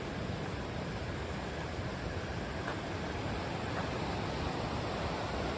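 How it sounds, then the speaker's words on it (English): Steady, dense rushing water noise of a fast creek flowing nearby in the Rocky Mountains, constant and unbroken throughout. "Can you hear the creek in the background?"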